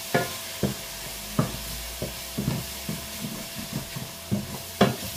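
Garlic and pork being stirred in a pan for caramel pork, a spoon scraping and knocking at irregular intervals over a faint sizzle, close and moderately loud with no talk.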